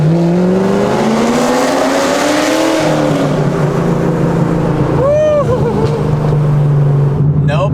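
A loud straight-piped Corvette Z06 exhaust rises in pitch, then drops as the car passes, with a sharp burbling crackle. Voices talk briefly over the rumble.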